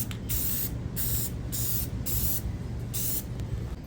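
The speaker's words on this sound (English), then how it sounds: "we're gonna spray paint this thing before we put it on." Rust-Oleum spray paint hissing from an aerosol can onto a water pump for a 1986 Chevy C-10 in a garage, a series of about six short bursts with brief pauses between them, steady and fairly close, no talk.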